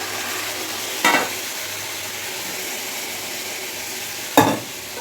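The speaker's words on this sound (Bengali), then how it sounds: "নাড়াচাড়া করছি আর এখানে সব মশলাগুলোকে একসঙ্গে জল দিয়ে ঘুরিয়ে নিয়েছি" A spice mix loosened with water is stirred in a hot frying pan, giving a continuous soft sizzle, with two brief louder scrapes of the spoon against the pan a few seconds apart.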